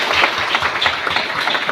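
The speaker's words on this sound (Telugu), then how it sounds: "గట్టిగా చప్పట్లతో మన స్వాగతం" A crowd applauds steadily at a church retirement gathering, welcoming an apostle and bishops, with dense clapping throughout at a moderate distance.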